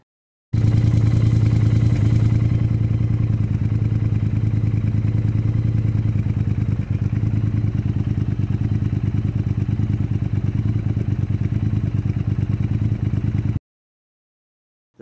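A Triumph Thruxton R motorcycle fitted with Norton style mufflers idles steadily and loudly, its deep, even exhaust rumble running for about thirteen seconds before it cuts off abruptly.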